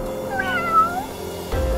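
A cat stuck up in a tree meows once, a clear, close, drawn-out cry with a wavering pitch, followed by a short low thump.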